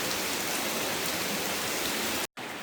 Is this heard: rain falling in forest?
yes